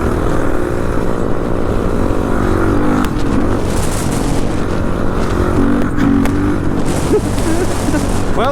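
Motorcycle accelerating hard while lifting into a wheelie at about 60 mph, a loud steady engine roar with rising revs and heavy wind noise, captured close from the rider's position.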